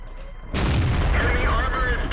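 A T29 tank cannon fires in a tank video game, one loud sudden boom that rolls on with a sustained rumbling tail.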